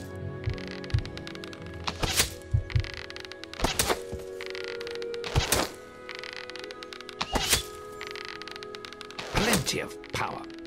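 Arrows striking a target in the video game Fable, several sharp thunks spaced a second or two apart over a low hum, with game speech between them.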